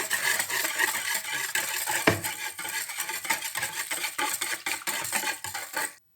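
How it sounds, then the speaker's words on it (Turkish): A spoon stirs salt into just-boiled water in a container to dissolve it for brining vine leaves, giving a steady run of close scraping and clinking against the sides for about six seconds with no talk. "Tuzu hemen su soğumadan eritelim."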